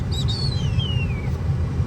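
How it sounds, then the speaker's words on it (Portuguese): Birds sing outdoors: a few bright, high chirps and one long, descending whistled note, set against a steady low rumble. "o som dos pássaros, ó."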